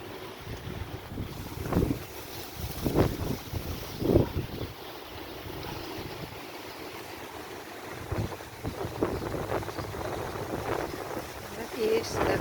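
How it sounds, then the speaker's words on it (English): Strong wind gusts buffeting the microphone outdoors in the town centre of Limassol, Cyprus, on a sunny day, with trees blowing; a steady roaring rush with irregular louder blasts, and a person speaking over it at times. "Sunny and windy."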